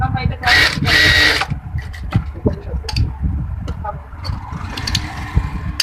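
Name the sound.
sewing machine double stitching a baby kameez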